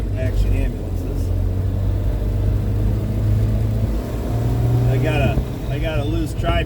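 Small MG Midget sports car engine revving as throttle is applied, a low rumbling drone that rises and falls, with a voice speaking over it.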